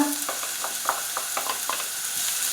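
Onion and garlic frying in a pan, a steady close sizzle with a series of soft scraping stir strokes running through it.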